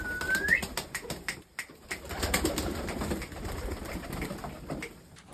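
Pigeons coo and call in a rhythmic series of soft, repeated bursts, fairly close and steady throughout, with a brief rising whistle near the start and some wing flutter.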